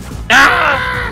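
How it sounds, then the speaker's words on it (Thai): A screaming effect from the game Ultimate Chicken Horse: one loud, harsh, wavering cry that bursts in suddenly and then trails off over about a second. "โอ้โหเสียงเสียงกรีดร้อง"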